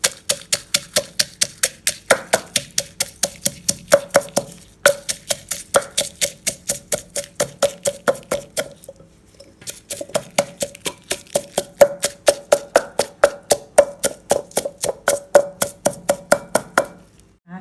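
Garlic is pounded in a mortar and pestle for Thai papaya salad, a steady run of sharp, loud wooden thuds at a quick even rhythm, with one brief pause midway before the pounding resumes.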